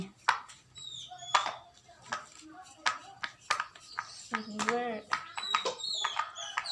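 Fingers pressing the silicone bubbles of a pop it fidget toy, making scattered soft pops and clicks close by, with a child and an adult talking over them.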